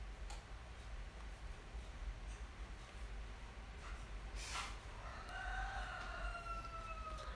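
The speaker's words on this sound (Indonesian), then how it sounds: "Ini ayam bener-bener nih." A rooster crows once at a distance, a faint rising call heard over a steady background hum with no talking.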